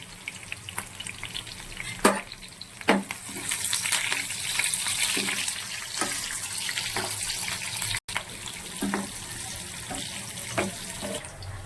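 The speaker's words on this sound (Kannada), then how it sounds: "ಆನಿಯನ್ ಹಾಕ್ಕೊಂಡು ಒಂದು 2 ಮಿನಿಟ್ಸ್ ಫ್ರೈ ಮಾಡ್ಕೊಳ್ಳಿ." Onions fry in a pan for a village-style drumstick leaf bassaru, a steady sizzle with occasional sharp knocks of a utensil against the pan.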